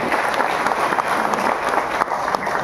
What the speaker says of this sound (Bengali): এর জন্য একবার হাততালি করে